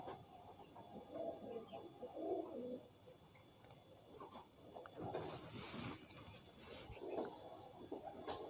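Pigeons with feathered wings coo softly in a loft, low murmuring calls rising and falling through a faint, hissy background.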